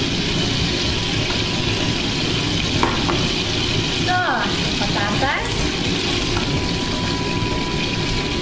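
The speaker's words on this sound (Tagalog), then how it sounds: "Pagprito ng patatas." Potatoes fry in oil with salted butter in a pan, giving a continuous loud sizzle with occasional stirring scrapes, heard close up with a voice faintly under it.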